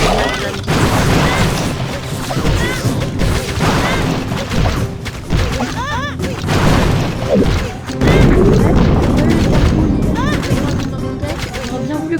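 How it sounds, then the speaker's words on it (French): Loud, dense blasts and crashing booms from a mega bomb going off in the Clash of Clans mobile game, heavy impacts piling up with battle clatter across the whole stretch. "Ah, il y avait une méga bombe, c'est ça."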